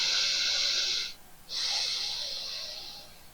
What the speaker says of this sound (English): You should be able to hear the sound of your own breathing.